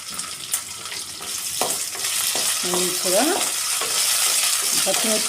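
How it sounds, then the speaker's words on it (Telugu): Cumin, drumstick leaves and green chillies fry in a pan with a constant close sizzle, building a little louder partway through, with scraping stirs and a few utensil knocks on top. "ఇవి మంచిగా ఇట్లా వైట్ కలర్ వచ్చేదాకా వేపుకోవాలి"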